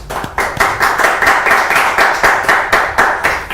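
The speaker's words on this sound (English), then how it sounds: "Can you please clap for him?" Audience at a university leadership event clapping to welcome guest speaker Stephen Mbanda, a steady, fairly loud patter of many hands with regular rhythmic peaks, no voices over it.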